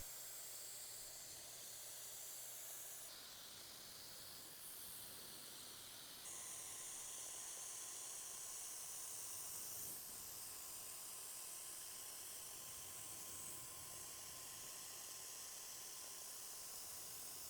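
A Wagner Flexio 5000 paint sprayer sprays in a steady, loud hiss that shifts slightly in level as it runs, with no voices.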